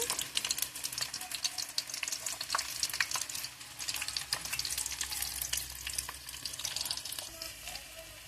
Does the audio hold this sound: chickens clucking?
no